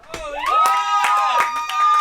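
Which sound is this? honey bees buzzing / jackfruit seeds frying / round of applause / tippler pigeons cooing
round of applause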